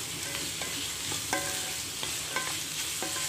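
Small-cut carrots sautéing in a pan, with a steady sizzle and periodic stirring scrapes and light utensil clinks against the pan.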